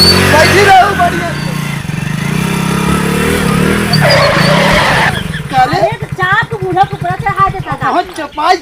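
A vehicle engine running loudly nearby in a village setting, a steady rumbling drone with revving swells, and people's voices talking over it toward the end.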